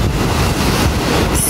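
Black Sea waves crash onto a beach in Crimea, a loud continuous roar of surf buffeted by wind on the microphone, close and unbroken with no talk.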